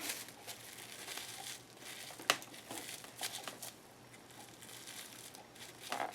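Plastic wrap crumpled and scrunched by hand, a steady crinkling rustle over about six seconds with one sharp crackle partway through, close and fairly quiet.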